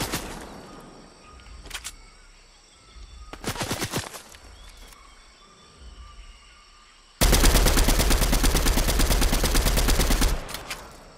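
Rapid automatic gunfire in a video game shooter with grenades, scattered short bursts early on, then a long, loud, continuous burst of fire for about three seconds near the end, with no talk.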